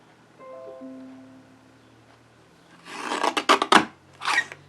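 A blade rasps through card stock in several quick scraping strokes, followed by one more short cut, close and clear after a quiet start, while making a greeting card.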